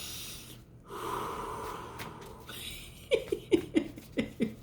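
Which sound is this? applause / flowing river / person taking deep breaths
person taking deep breaths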